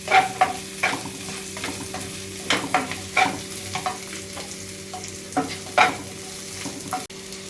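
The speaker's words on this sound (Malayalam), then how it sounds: "ഇതേ രീതിയിൽ അരിഞ്ഞ് നമുക്കതൊന്ന് വഴറ്റാം." Finely chopped shallots sautéing in a pan for a Kerala-style prawn roast: a soft, constant sizzle broken by irregular scrapes and clatters of a spatula stirring, close by with no talking.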